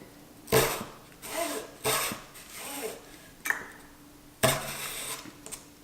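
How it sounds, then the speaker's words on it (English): A pull saw cuts wood in a miter box for dollhouse cabinet parts, giving about six separate rasping strokes at an uneven pace. The strokes are close and fairly quiet, with short pauses between them. "So I'm using this pull saw, which basically means it only works by pulling."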